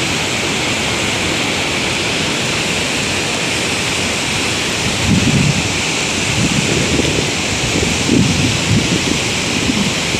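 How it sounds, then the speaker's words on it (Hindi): Fast-flowing water rushing below a closed dam gate at the Bokaro Thermal Power Plant, a loud, continuous roaring wash that stays steady throughout, with no voices. "और पानी का बहाव काफ़ी ज़्यादा यहाँ पे तेज़ है"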